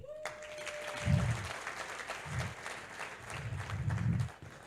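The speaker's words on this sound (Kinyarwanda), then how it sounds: "mbasabe dukomere mu mashyi umuvugizi wa RIB" Audience applause at a comedy event, clapping rising in several loud bursts and fading between them, with voices mixed in underneath.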